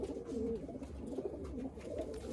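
A Punjabi Malwai pigeon gives a steady, low, rolling coo close by, continuing without pause and with no voices.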